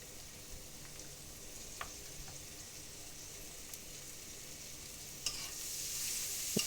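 Chopped onion and pink oyster mushrooms stir-frying in a pan for chowmein, a steady faint sizzle with occasional soft scrapes and clicks of stirring, growing a little louder near the end.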